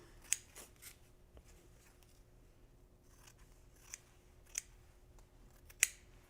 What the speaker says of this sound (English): I'm just going to take my scissors and go around the edge here